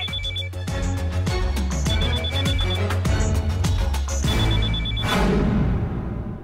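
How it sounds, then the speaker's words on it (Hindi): A telephone rings in a Hindi comedy film scene, a bright electronic trill repeating in bursts with short gaps, loud and close over a low musical drone, with a swelling swoosh near the end. "फोन उठा राजू राजू प्लीज फोन उठा"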